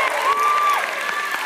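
Audience applause and light cheering in the hall at a 2024 regional election (Pilkada) debate, a brief burst of crowd noise with a faint tonal sound over it.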